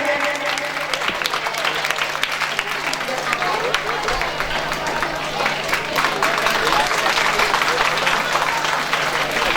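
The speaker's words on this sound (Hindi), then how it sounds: "तालियों से स्वागत किया जाए।" Audience applause welcoming special guests at the NCM Championship 2025 event, a dense, steady clapping from a sizable crowd that keeps going without a break from start to finish, with a faint murmur of voices mixed in.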